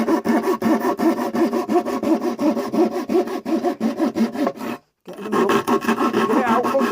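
Sawing through a splintering wooden rear panel for a PS5 console, close and loud with steady back-and-forth strokes, a brief pause near the end, then the cutting resumes.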